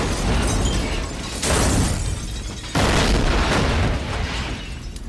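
A heavy explosion sound effect during a tabletop role-playing session booms with rumbling, crackling bursts, loud and close, swelling in waves with renewed blasts before trailing off.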